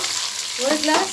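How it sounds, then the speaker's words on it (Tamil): Thinly sliced onions dropped into hot oil for a simple biryani, frying with a sizzle that swells after a brief quiet start, while a voice speaks briefly. "எண்ணெய் நல்லா காஞ்சதுக்கப்புறம் வெங்காயம் மெலிஸ் மெலிஸாக நறுக்கின வெங்காயம் போட்டுக்கணும்"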